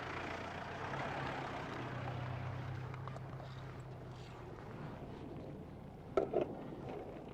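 A car engine idling and then rolling forward at low speed, a faint, steady low rumble with a brief louder clunk near the end.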